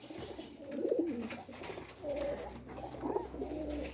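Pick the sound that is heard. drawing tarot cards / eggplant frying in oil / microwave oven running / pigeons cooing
pigeons cooing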